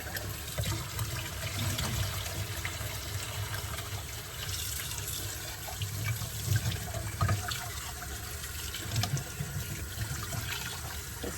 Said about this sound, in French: Et je rince encore à l'eau froide.